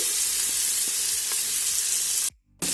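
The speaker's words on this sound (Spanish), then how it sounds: "en este aceite que nos ha quedado del aceite de oliva y la grasita de la costilla, vamos a echar la cebolla y el ajo para que se doren muy bien" Onion and garlic frying in leftover olive oil and pork rib fat, a loud, steady close-up sizzle with a few faint stirring knocks, cut by a brief silence before the hiss resumes.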